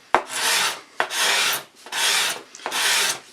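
A cabinet scraper rasps across wood in four even strokes, each a sharp start followed by a steady dry scrape, close and clear with short pauses between.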